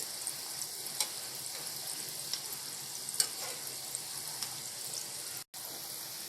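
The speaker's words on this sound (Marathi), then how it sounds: "ते दोन्ही साईडने चांगले लालसर होईपर्यंत भाजून घ्यायचे" Sabudana vada browning in a pan, a continuous bright sizzle of hot oil with scattered small pops, close and steady, briefly cut off near the end.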